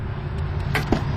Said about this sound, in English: You can really hear the quality in this new car, even in simple things just by shutting the door.